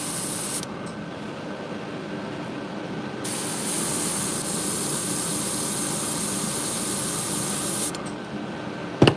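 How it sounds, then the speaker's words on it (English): Loud, steady hiss of spray painting a fishing lure silver, with an air compressor droning underneath; the spray cuts in and out in long bursts, close up with no talking. "I really gotta do something with this air compressor"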